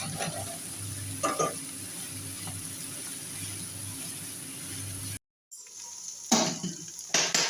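Ginger, coriander and cumin powder fry in a pan with a soft, continuous sizzle, a few clattering stirs, and a brief silent gap before the hissing resumes.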